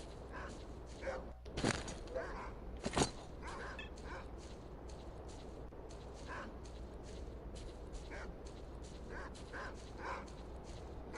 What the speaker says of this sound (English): Nothing more than a bunch of dogs fighting a bunch of boars.